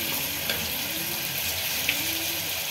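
Green chilies and spinach fry in a pan for Hyderabadi palak gosht (spinach mutton curry), giving a steady, close, even sizzling hiss with no talk.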